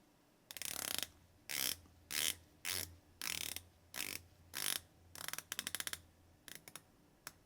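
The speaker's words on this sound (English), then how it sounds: "Let's listen to the bezel action." Ratcheting clicks of a knurled dive watch bezel with an acrylic insert being rotated, close and crisp, coming in about a dozen short bursts of rapid clicking separated by brief pauses.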